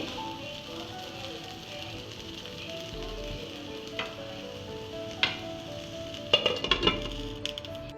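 Cauliflower (gobi) fries in a pan with little oil, giving a soft, quiet sizzle that runs throughout, with a few light utensil clinks and stirs clustered toward the end.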